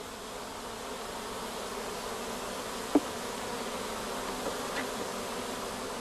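Honeybees hum in a steady, dense drone inside a hive, a continuous quiet buzz with one brief click midway.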